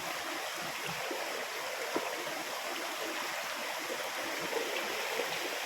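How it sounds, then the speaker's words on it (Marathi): A stream of clear spring water flowing out of the ground in Konkan, a continuous soft rushing that stays even throughout with no voices. "हे स्वच्छ पाणी झऱ्याचं स्वच्छ पाणी पिण्याचं पाणी आहे आणि झरा चालू झाला"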